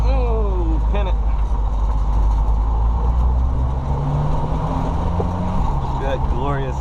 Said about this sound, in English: That glorious acceleration. That's full throttle right there.